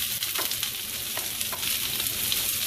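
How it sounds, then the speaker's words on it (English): Peppers and onions sauteing in oil in a pan, a steady close hiss of frying with faint stirring scrapes, no voices. "I'm going to saute these peppers and onions."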